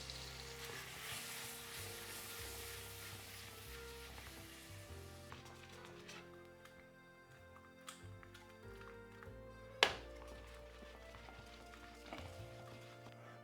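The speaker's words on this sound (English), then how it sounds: "I will add them to the butter, and I will roll them slowly until they become hot" Gnocchi sizzle steadily in melted butter in a pan as they are rolled slowly, a continuous close frying hiss with a sharp clatter near the end and no talking.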